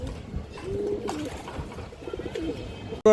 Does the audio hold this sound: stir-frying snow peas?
no